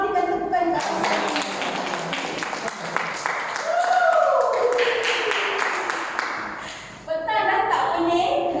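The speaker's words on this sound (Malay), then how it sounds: "Berikan tepukan kat Abang Saidi." An audience at a health therapy talk breaks into a burst of lively clapping that lasts several seconds, with voices mixed in over it.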